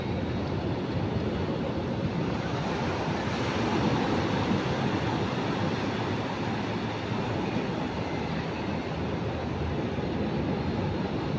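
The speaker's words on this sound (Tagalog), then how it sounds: "Gandang pagmasdan yung alon mga kabong." Rough ocean waves pound a shore at Casiguran at dusk, a steady, loud, unbroken roar of surf with no pauses or voices.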